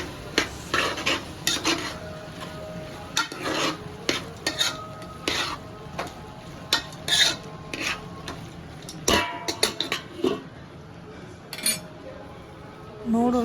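Potatoes are stirred in a hot pan for hakka noodles, a metal spoon scraping and clinking in irregular strokes over a low sizzle, with some faint speech between the clatters.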